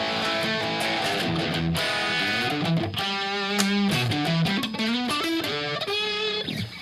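An electric guitar with low-output pickups rings out dry through an amp, with sustained notes and chords moving steadily and loud for several seconds, a slightly gritty edge and no voices.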